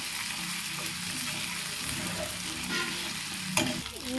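Fish frying in a home kitchen pan with panch phoron, ginger and garlic added, giving a continuous close sizzle with light stirring and one sharp spatter near the end.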